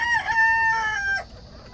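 A rooster crows one drawn-out call close by, trailing off, with a faint background hum after it ends.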